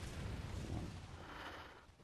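Gun turret in the Bloodborne tower firing at the player, a broad low booming burst that rumbles and fades over about two seconds, with no talk over it.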